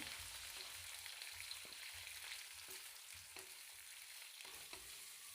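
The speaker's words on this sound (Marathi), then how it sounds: "कांदा आपल्याला फोडणीत चांगला परतवून घ्यायचा आहे" Constant crackling sizzle of onion sautéing in tempered oil, with occasional soft scrapes of stirring; fairly quiet and close, no voices.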